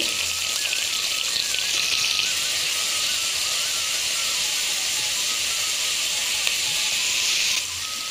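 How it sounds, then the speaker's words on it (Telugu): Long-sliced onions for a vegetarian horse gram biryani sizzle steadily in hot oil in a pan, a loud continuous frying hiss that holds evenly throughout and eases slightly at the very end. "అట్లాగే కట్ చేసి పెట్టుకున్న ఆనియన్స్ వేస్తున్నాను."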